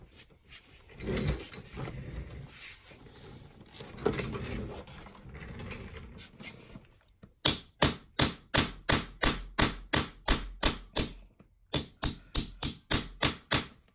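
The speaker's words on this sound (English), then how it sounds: "we're just going to drive that through with a metal hammer" After a stretch of muffled shuffling and handling noise, a metal hammer strikes a coin punch repeatedly in a steady run of sharp, ringing blows, briefly pausing midway, while making a coin ring.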